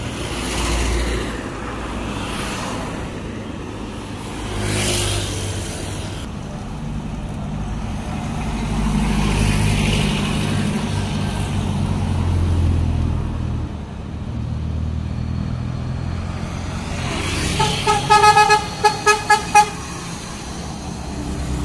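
A Pangeran intercity bus passes by on a road, its engine rumbling loudly for a long stretch, then a burst of rhythmic, repeated musical horn toots near the end.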